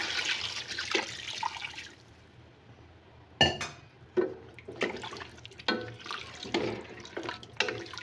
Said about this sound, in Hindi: ये इसमें पानी गया।